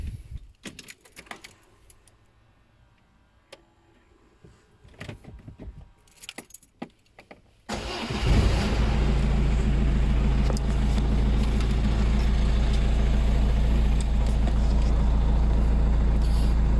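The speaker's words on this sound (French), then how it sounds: "Là on va démarrer le moteur" A 2008 Peugeot Expert 1.6 HDI diesel engine starts abruptly after some faint clicks and key rattling, then settles into a steady, loud, low idle that continues to the end.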